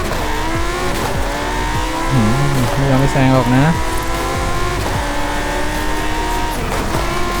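A Lamborghini Huracán Super Trofeo Evo race car in Forza Horizon 5 screams at high revs with loud engine whine, gear shifts and brief tire squeal, while someone talks excitedly over it.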